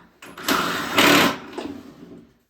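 Impact drill driving screws while a TV gaming table is assembled, two close, loud whirring bursts, the second stronger, then a tapering rattle before silence.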